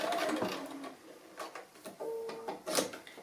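A sewing machine stitches a cushion seam with a short back stitch, running in several close, brisk bursts separated by brief pauses, with no talking.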